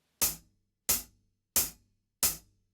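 Four accented hi-hat hits on a drum kit, struck hard and evenly spaced, each a loud, bright wash with a slightly longer ring than a light tap, heard alone and up close.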